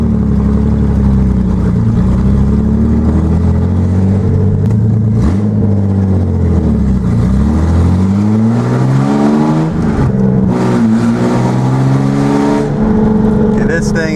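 A 1979 Datsun 280ZX with upgraded intake and exhaust revs hard up close, its loud, harmonic engine note climbing and falling in repeated sweeps, very piercing and near.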